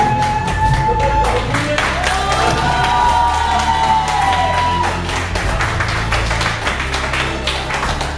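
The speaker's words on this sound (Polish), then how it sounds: "Wielkie brawa, jeżeli to się uda." Wedding guests clap and cheer at an illusion show, a dense burst of applause and shouting that stays loud throughout, with a voice heard over it.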